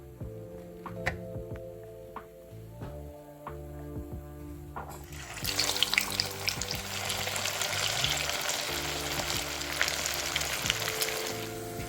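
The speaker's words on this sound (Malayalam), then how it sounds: "നമുക്ക് ഈ ഒരു രണ്ടോ മൂന്നോ വട ഒന്നിച്ചിട്ടിട്ട് ഫ്രൈ ചെയ്തെടുക്കാം" Two or three rava upma vadas drop into hot vegetable oil in a kadai, setting off a sudden, loud, bubbling sizzle that continues steadily after a quieter stretch of kitchen hum and ticks.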